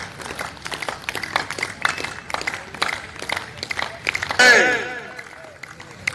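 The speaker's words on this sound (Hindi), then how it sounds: "ताली बजाने में कंजूसी ना करें" Audience at a motivational energy camp clapping in loose, scattered bursts, moderately close and uneven in rhythm, with a voice breaking in briefly over the applause toward the end.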